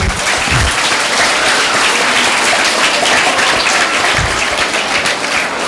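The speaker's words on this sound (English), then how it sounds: "Give him a big round of applause" Loud, dense applause fills a lecture hall audience at a talk by Professor Solanki, a steady wash of many hands clapping at close range with no break.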